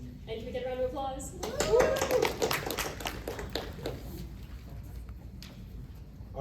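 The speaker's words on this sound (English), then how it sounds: "can we get a round of applause?" Audience in a lecture hall for a university intro neuroscience and AI course giving a round of applause, a burst of clapping that swells early then thins out, with some voices mixed in.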